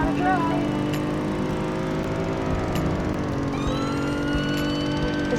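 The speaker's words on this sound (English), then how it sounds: "Is that lawnmower still going?" A lawn mower runs continuously in the Greenville driving video game, its droning engine hum steady throughout amid other car and siren-like tones.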